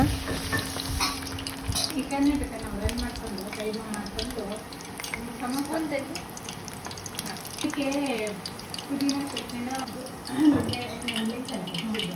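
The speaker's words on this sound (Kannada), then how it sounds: "ನೀಟಾಗಿ ಸಣ್ಣ ಉರಿಯಲ್ಲಿ ಒಂದೊಂದನ್ನೇ ಹಾಕಿ ಫ್ರೈ ಮಾಡ್ಕೊಳ್ಳೋಣ" Chicken leg pieces frying one at a time in a pan over a low flame, a steady soft sizzle with occasional stirring and utensil clatter, while a person talks over it.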